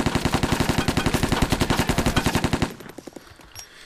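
Sustained automatic fire from an MP5 submachine gun in ARMA 2, a rapid even rhythm of loud close shots for over two seconds, then a few scattered single shots trailing off.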